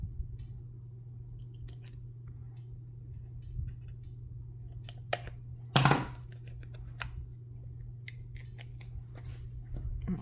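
Scissors snip through a narrow piece of paper during a watercolor pencil card craft, a close, crisp single cut standing out over a steady low hum, with faint light ticks around it.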